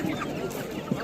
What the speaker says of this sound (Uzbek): Hammasi xo'roz ekan-ku bularni.